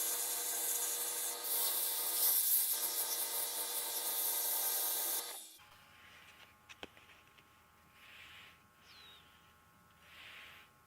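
Sandpaper, from 120 up to 150 grit, rubs against an unidentified strange wood spinning on a lathe while turning a Halloween box, a loud steady broadband rasp for about five seconds before cutting off to quiet faint tool sounds.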